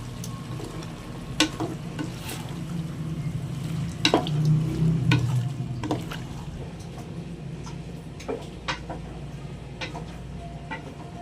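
Pork menudo sizzles in a frying pan while a spoon stirs it. Steady frying hiss runs throughout, broken by sharp scraping and clinking ticks of the utensil against the pan.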